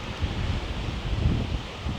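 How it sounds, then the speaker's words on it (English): Strong wind roars steadily into the microphone at the Dell Rapids City Park Campground, South Dakota, with low rumbling gusts and buffeting throughout, no voices. "it is very windy out here"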